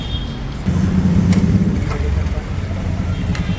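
Heavy road traffic in a jam rumbles along with low engine drone and passing vehicles, close and steady, while someone speaks over it.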